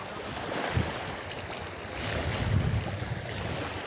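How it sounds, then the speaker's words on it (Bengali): Broadband rushing water with low rumbling swells of strong waves churning on a wide Sundarbans river, steady with slightly stronger surges midway; no voices. "কত বড় নদী দেখতে পাচ্ছ, নদীতে প্রচণ্ড ঢেউ হচ্ছে"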